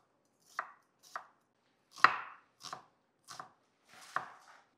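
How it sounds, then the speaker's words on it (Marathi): A knife cuts an onion lengthwise in six separate, crisp chops with short irregular pauses between them, close and with no talking. "कांदा जो आहे तो असा लांब चिरून घ्यायचा आपल्याला"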